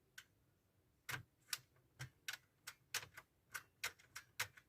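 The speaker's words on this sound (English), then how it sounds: "you can hear it clicking together, the magnet." Hunt magnetic couplings on a model railway click together in a series of small, sharp ticks, faint and close, irregularly spaced over several seconds in a quiet room.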